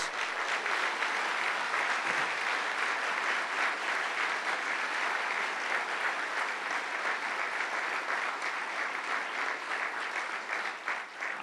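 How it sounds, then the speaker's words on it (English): A large audience applauds steadily at a Deschutes Brewery announcement in Roanoke, Virginia, a dense, even wash of clapping that holds at full strength for over ten seconds with no one speaking. "Let's give the city of Roanoke a great round of applause"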